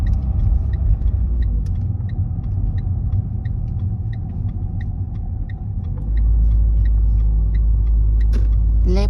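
A Renault Clio with automatic transmission drives on a road during a driving test and turns right, giving a steady engine and road rumble with a repeating soft ticking, likely the indicator, and a heavier low rumble near the end.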